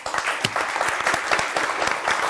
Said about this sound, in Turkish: Ama bütün yarışmacılarımızı bir alkışlayalım.